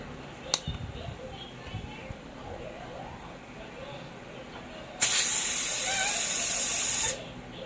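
A spray gun hisses steadily for about two seconds as it lays clear coat onto a Honda Click crankcase, a loud, close, continuous burst that follows a stretch of quiet handling noises.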